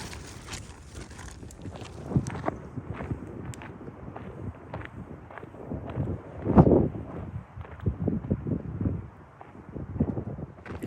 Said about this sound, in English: I woke up that morning and the wind was still blowing a gale.